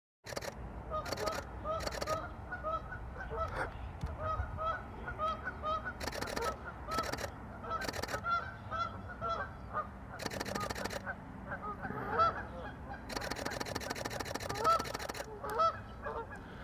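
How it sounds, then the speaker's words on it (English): Geese honking repeatedly on a pond in Norman, a busy flock calling in bursts, with camera shutter clicks and faint background noise. "A bunch of geese."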